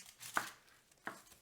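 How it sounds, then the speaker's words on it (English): A knife chops an onion on a board in a home kitchen, two sharp, close chops spaced about two-thirds of a second apart, with quiet gaps around them. "So I'm going to get chopping. I'm going to start with my onion here."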